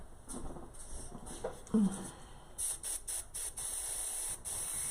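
Hairspray from an aerosol can hissing in a few short bursts onto glitter on a gnome door hanger, loud and close, with some brief handling noise before it.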